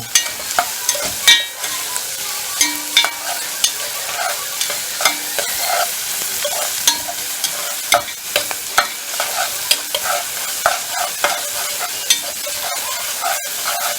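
Onions fry in a pan, turning golden, and are stirred repeatedly; sharp scraping strokes land at a regular rhythm over a constant, close sizzle.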